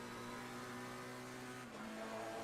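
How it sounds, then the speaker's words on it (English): A mid-engine race car in the Assetto Corsa racing game, its engine note screaming steadily at high revs throughout, loud and continuous with only a brief dip near the end. "You can hear the engine screaming out, especially in these mid-engine cars."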